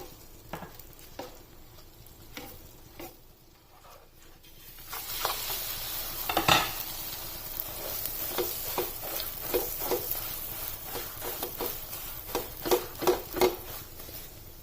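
Beaten egg is spread over a paratha frying in a pan, setting off a sizzle that grows louder midway, with scraping and stirring taps on top, close and without talking.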